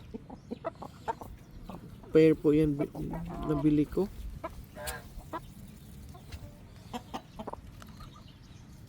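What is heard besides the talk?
shamo gamefowl chickens clucking on a farm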